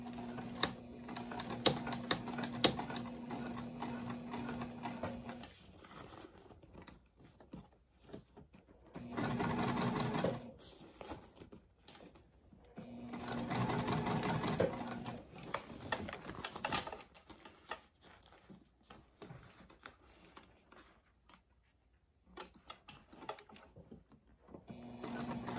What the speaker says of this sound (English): I'm just going to stitch 1/8 from the edge.